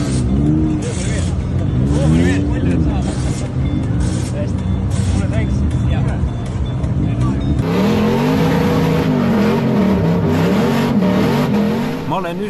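A rally car's engine roars and revs continuously from inside the cabin during a ride at a Summer Bash event in Pärnu, rising and falling in pitch under loud voices throughout.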